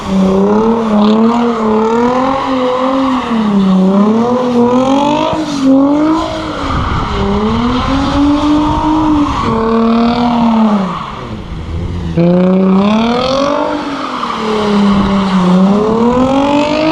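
Nissan 350Z drifting on a street in hurricane conditions, its engine revving hard and continuously in rising and falling sweeps while tires squeal and skid, loud and close throughout with no talking.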